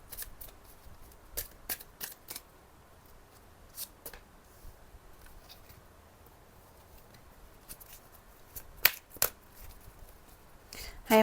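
Tarot oracle cards are shuffled and handled during a reading, producing scattered soft riffling flicks and snaps, some clustered and some isolated, fairly close and quiet against a low background hiss.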